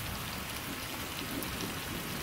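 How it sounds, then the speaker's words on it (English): Heavy rain pours steadily in a Madagascar rainforest, a dense, unbroken hiss of drops on foliage and surfaces, loud and close throughout with no voices. "Rain. Lots of it."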